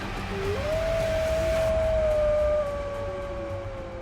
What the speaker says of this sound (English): The shepherd still heard the beast's terrible howls during the night.